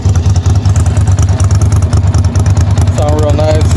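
A 1999 Ducati Monster 750 with custom slip-on exhausts idles close by, a loud, steady, lumpy V-twin pulse, while someone talks over it near the end.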